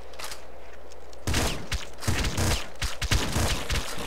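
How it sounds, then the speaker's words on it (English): Shotgun blasts in the video game Nuclear Throne, a dense run of loud, close booming shots firing in quick succession with crunchy impacts, following a quieter hum of game noise. "Let's use our shotgun."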